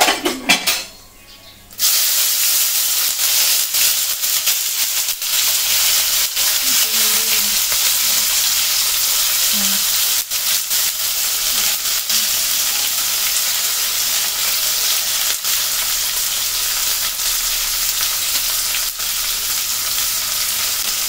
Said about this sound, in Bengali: আমার 2টো পেঁয়াজ কুচানো আছে, একটু টমেটো, কয়েকটা কাঁচা লঙ্কা আর একটু রসুন কুচানো আছে। এগুলো আমি দিয়ে দিচ্ছি তেলের মধ্যে।